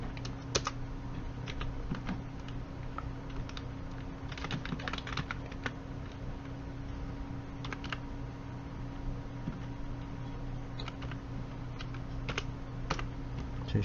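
Data being entered on a computer keyboard into an Excel spreadsheet, a quiet run of close, crisp key taps in irregular bursts with occasional heavier strokes, set against a low steady hum and no talking.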